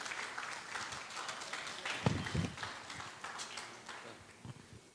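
Applause from an audience at an evening conference on the characteristics of cells, a steady, moderately loud patter of clapping throughout with a brief burst of low thumps near the middle.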